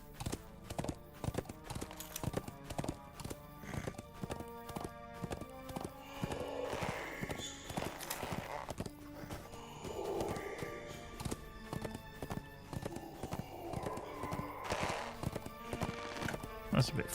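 A horse being ridden in the video game Lord of the Rings Online, with steady, rhythmic hoofbeat clip-clops throughout and a voice faintly heard at times beneath them.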